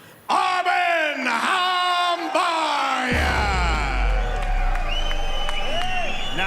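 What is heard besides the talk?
crowd reacting unhappily to a split decision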